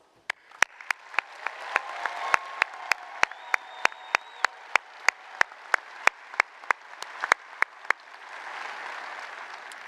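A graduation ceremony audience at a school of arts claps warmly in sustained applause, with several loud, sharp claps ringing out near the listener above the steady crowd clapping.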